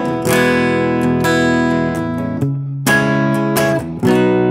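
Gretsch electric guitar through an amp simulator on a lightly gritty pop preset: several strummed chords in a loose rhythm, ringing and slightly overdriven, close and fairly loud.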